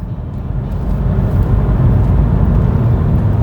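A BMW 220d diesel coupé engine rumbles loudly and steadily, a deep continuous roar close by, with no talking.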